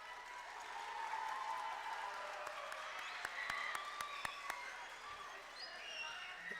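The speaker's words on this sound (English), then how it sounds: "Can you give them a round of applause?" Applause from a school winter concert audience for a 7th grade middle school band, a faint, distant wash of clapping with a few sharper claps and some cheering, sustained throughout.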